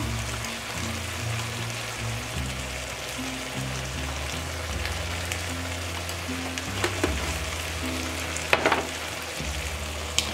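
Minced meat fries in a pan as ground sweet paprika goes in for zucchini moussaka, a steady close sizzle with occasional utensil scrapes and taps.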